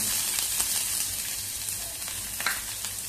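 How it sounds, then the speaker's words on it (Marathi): Half an onion frying in hot oil in a pan while making sambar, giving a steady close sizzle with small crackles and pops throughout, with no talking. "तेल गरम झालेलं आहे. आपण अर्धा कांदा भाजण्यासाठी घालूया."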